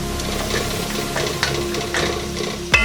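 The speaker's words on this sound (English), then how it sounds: "So we're going to ground the beef." Ground beef browns in a pan for Southwest chili, giving a steady low sizzle with soft scraping stirs and a sharp clink of utensil on pan near the end.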